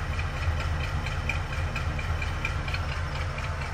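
A 1940 Ford Deluxe family cruiser with an engine of roughly 85 horsepower, running at a steady idle with a low, even rumble and light ticking, moderately loud and without voices.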